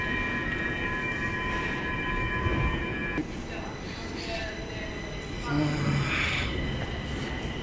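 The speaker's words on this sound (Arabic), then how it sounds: "هون بنتجه البندل توغ. هاي بندل توغ." A Stockholm pendeltåg commuter train in a deep underground station, a steady rumble and whine of the train filling the platform throughout, with a brief shift partway through and faint voices in the background.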